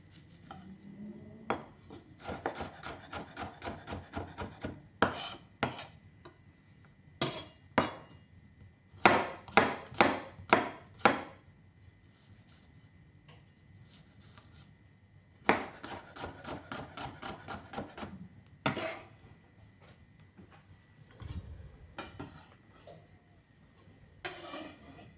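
A knife chops vegetables coarsely on a cutting board, with rapid runs of crisp taps interrupted by slower single strokes and short pauses, close and clear, no talk.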